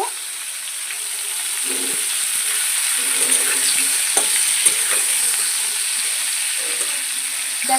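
Cauliflower fries with turmeric in a pan, a steady sizzle carrying through while a utensil stirs and scrapes at intervals, close and alone without speech.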